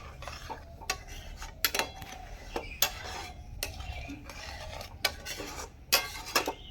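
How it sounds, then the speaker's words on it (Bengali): A spoon stirs boiled milk in a pot, giving irregular metallic clinks and scrapes against the pot's sides amid a soft low rumble, with no talking. "না করতে এরকম নাড়তে হবে।"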